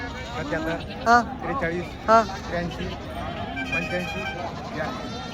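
Goats at the Bolda goat market in Kalamnuri taluka, Hingoli district bleat twice in short, loud, nasal calls about a second apart, over steady crowd chatter and people talking nearby.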